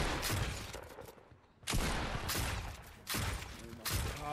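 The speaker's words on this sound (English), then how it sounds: "It's like dueling shotguns" Shotgun blasts in a Fortnite match fire in bursts: a dense broadband burst, a short lull, then sharp loud shots hitting again around every second and a half, with game sounds in between.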